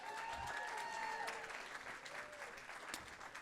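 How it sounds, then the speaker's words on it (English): Audience applause fills a gala hall for performing jazz students, a steady wash of many hands clapping at moderate volume with faint tonal traces beneath. "let's give a round of applause for our students"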